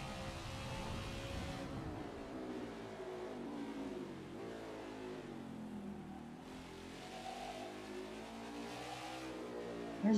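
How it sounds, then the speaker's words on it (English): Race cars roar and rev continuously in NASCAR 21: Ignition at the Indianapolis road course, engine pitch rising and falling steadily and fairly loud, with no talk over it. "There's a couple more cars up the way in the S's that Bell's closing in"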